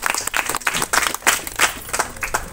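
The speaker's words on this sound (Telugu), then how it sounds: "చప్పట్లు కూడా దేవుని స్తుతిద్దాం." A worship congregation in Petlurivaripalem claps in praise, a dense run of quick, loud handclaps from many people, steady and close, with no voices over it.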